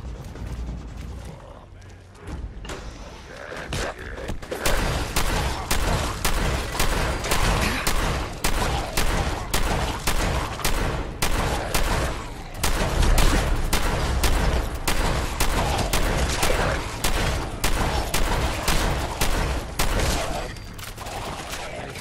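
Shotgun fire in Fallout 4: Nuka World, a long run of loud, closely spaced blasts that come in a fast, steady rhythm and keep going almost without a break, with other combat noise mixed in.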